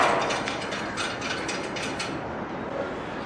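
Nut being tightened on a fire escape descender, a steady close mechanical ratcheting and grinding with rapid clicks running the whole time and no voices.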